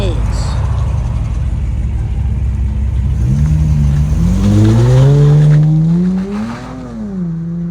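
A 2019 Dodge Challenger GT with a 3.6L V6 and a NETAMI turbo resonator revs loud and near, its engine note rising and falling in several long sweeping pulls over a steady rumble.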